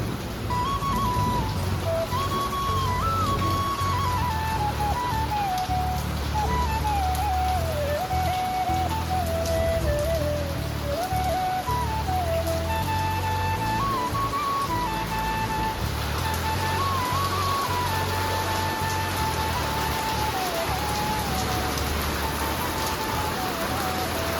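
Heavy rain pours down steadily for the whole stretch, a loud, dense and unbroken hiss of drops on surfaces, with a faint wavering tune in the background and no one speaking.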